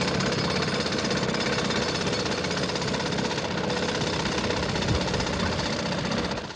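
Pneumatic drills break up the road surface at Oxford Circus in London during road works, a loud, dense, continuous hammering rattle that holds steady and close for the whole stretch with no voices.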